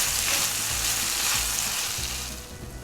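Chopped onions sautéing in a pan for a home-style shrimp masala, a dense, continuous sizzle close up that eases slightly toward the end.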